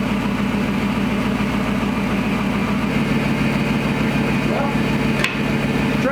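A Gen 3 Hemi V8 swapped into a 1952 Dodge pickup idles steadily with a deep, even exhaust rumble, close and constant throughout, with a brief sharp click near the end.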